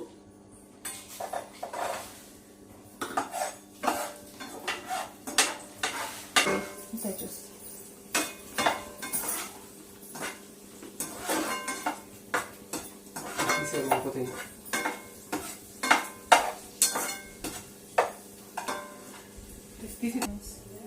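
A spoon stirs raisins through ghee in a metal pan for carrot halwa, producing repeated close clinks and scrapes in an uneven rhythm over a faint sizzle.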